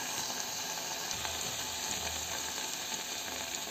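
Chilli powder and spices sizzle in hot oil with onion paste for a masala fish curry, a steady, close frying hiss with no talking.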